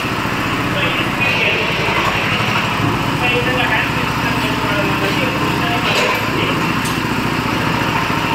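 A 7 hp gear-driven power weeder engine runs steadily nearby, a loud, continuous buzzing drone with a rattling pulse, while someone talks over it.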